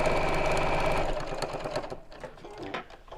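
A sewing machine runs steadily while stitching a cushion cover, then slows and stops after about a second. Quieter clicks and handling follow.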